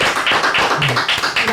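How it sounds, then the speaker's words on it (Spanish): Studio audience applause greets a guest on a Puerto Rican talk show, a dense, loud burst of steady clapping that fills the whole moment with no talk over it. "¡Un aplauso!"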